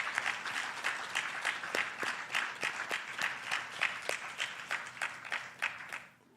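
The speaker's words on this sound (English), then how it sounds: "Let's give him a very, very big applause." Audience at a regional spiritual retreat breaks into sustained, dense applause with many hands clapping together, steady and fairly loud for several seconds before tapering off at the end.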